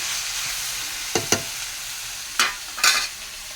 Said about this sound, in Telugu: బాగా మగ్గనివ్వాల చిక్కుడుకాయలు టమాటాలు బాగా వేగినాయి